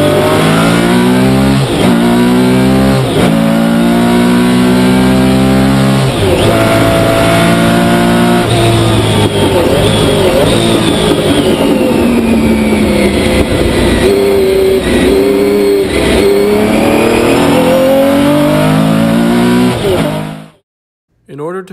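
A Porsche 917's 4.5-liter air-cooled flat-12 race engine revs loudly and repeatedly, pitch sweeping up and down through gear changes over a steady backing of music or talk.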